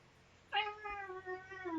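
A cat meows once, a short rising-falling cry with a drawn-out tail, close and fairly clear over a quiet room.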